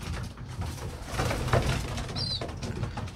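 Pigeons coo softly in a loft after nine birds return and settle to feed, a low murmuring coo running steadily throughout with a brief high chirp near the end, close and fairly quiet.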